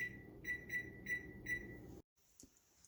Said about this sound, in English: Our 20-minute timer has just gone off.